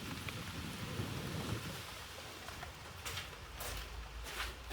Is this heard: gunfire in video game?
no